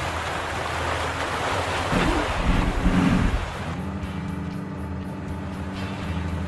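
Ocean waves wash and surge around a ship in the Arma 3 video game, a steady rushing swell with wind noise and a low engine-like hum, building briefly in the middle before settling.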